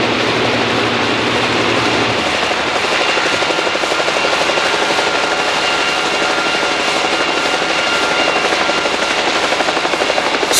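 A helicopter hovers overhead near a boat, its rotor and engine producing a loud, continuous whirring drone with a steady rhythmic beat throughout, no voices.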